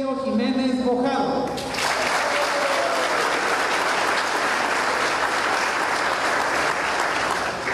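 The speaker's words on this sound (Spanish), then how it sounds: "Fuerte el aplauso para el presidente estatal de Morena, licenciado Sergio Jiménez Bojado." A solemn session crowd greets the state president of Morena with applause. A voice speaks briefly before loud, dense clapping erupts and carries on steadily to the end.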